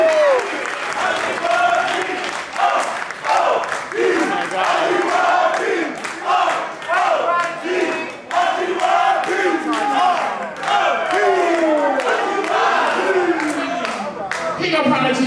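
A live performance crowd applauds and cheers, clapping mixed with shouts and whoops that rise and fall in waves over several seconds, loud and close.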